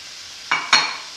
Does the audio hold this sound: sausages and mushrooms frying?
yes